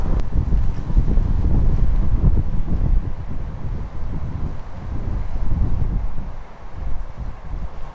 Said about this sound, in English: You can see on the flag there's a right to left wind here